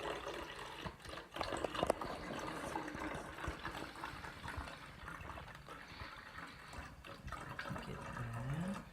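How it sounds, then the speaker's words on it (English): Water is poured into a container to fill it about a quarter full for a lava lamp experiment, a soft continuous trickle and splash close by that rises slightly in pitch as the vessel fills. "You need to fill the water about a quarter of the way full."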